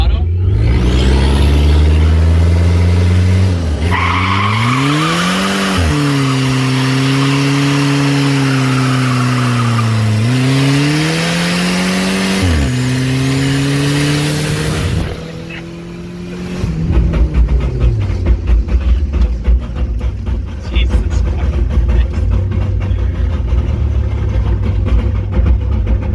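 Engine revving hard and holding high rpm in rising and falling sweeps for about fifteen seconds during a reverse-drop burnout in an automatic car, dropping to a rough idle with broadband tire-smoke roar and crackle afterward, loud and close.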